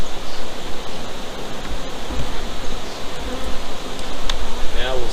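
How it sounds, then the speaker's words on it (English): Dense buzzing of many honey bees in a hive fills the air close up, a continuous droning hum with occasional louder passes near the listener. "Now we'll start getting into some more bees."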